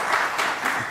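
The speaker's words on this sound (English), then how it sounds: "You can give him a round of applause." Audience applause at the opening ceremony of a university innovation festival, a steady wash of clapping filling the hall for the full second with no speech over it.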